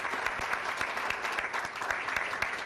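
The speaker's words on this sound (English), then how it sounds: "Let's give J&J a round of applause." Sustained applause from a conference audience honouring Johnson & Johnson sponsors, steady dense clapping throughout, moderately distant and alone with no talk over it.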